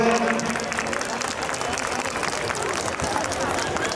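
A crowd at a book fair applauds performers in a steady, dense clatter of claps mixed with crowd murmur and voices.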